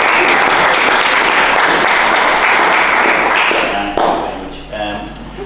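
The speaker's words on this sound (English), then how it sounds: "A big round of applause." A council meeting audience gives a loud, sustained round of applause, dense clapping filling the room before tapering off toward the end.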